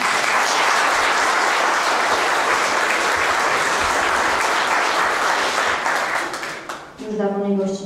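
Audience applause at a scholarship gala in a county office hall, loud and sustained dense clapping from a crowd for about seven seconds, dipping briefly before a voice starts speaking near the end.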